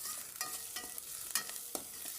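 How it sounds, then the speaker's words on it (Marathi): Green ginger and garlic fry in a pan, a soft continuous sizzle broken by occasional scraping stirs, quiet and close. "जिंजर गार्लीक आतां बरें भाजलें."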